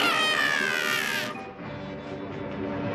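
A cartoon cat from the Smurfs lets out a loud, drawn-out whining meow that breaks off abruptly, followed by quieter background sound.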